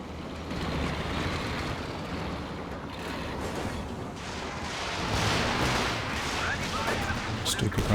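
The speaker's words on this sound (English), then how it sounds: "Stuka going for another barrage up to Vet 3 now." A Stuka dive-bomber barrage in Company of Heroes 2 rumbles as a dense wash of distant explosions and battle noise, swelling midway and ending with a few sharper blasts, with commentary voices underneath.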